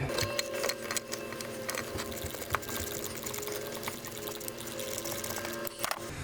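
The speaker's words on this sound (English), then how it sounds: "it's a 10mm bolt that needs to come out. So I'll put my socket on here." A ratchet with a socket works a 10mm bolt loose on a 2013 Smart ForTwo during spark plug replacement, giving quiet, fast, even clicking under faint workshop background.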